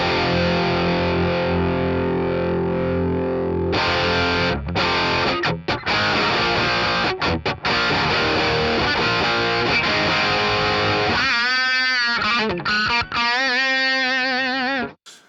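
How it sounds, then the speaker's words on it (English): Electric guitar played through a NUX amp modeller on its JCM 800 amp model, loud and distorted, with sustained driven chords, a few choppy stops, then ringing chords that decay toward the end; no talking. "starting off with the JCM 800."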